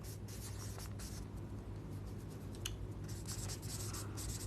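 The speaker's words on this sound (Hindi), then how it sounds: "पहला हम लिखते हैं राधा रीड्स।" Writing on a board with a marker or chalk, a soft continuous scratchy rubbing in short strokes over a steady low room hum.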